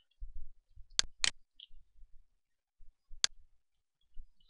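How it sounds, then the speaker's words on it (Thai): Three sharp, isolated clicks of a computer mouse's left button while working in CAD software, a quick pair followed by a single click, close and crisp against soft low thumps. "คลิกเมาส์ซ้ายหนึ่งครั้ง"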